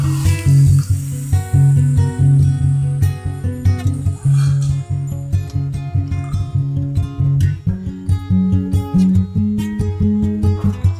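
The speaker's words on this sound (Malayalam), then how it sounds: "ഇനി നമ്മളിതിലേക്ക് പുളി ഒഴിച്ചു കൊടുക്കാം." Tamarind water poured into a hot, sizzling pan for a puli inji preparation, giving a loud, sustained frying sizzle with bubbling bursts that runs under prominent background music.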